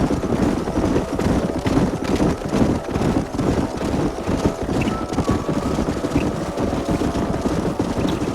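Horses in the Red Dead Redemption video game on a canyon drive, hooves clip-clopping in a steady, busy rhythm, with wind and a faint whinny mixed in over a dense, continuous ambience.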